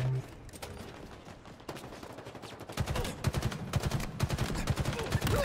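Video game gunfire rattles in rapid bursts, first sparser and quieter, then a loud, fast automatic stream of shots that carries on to the end.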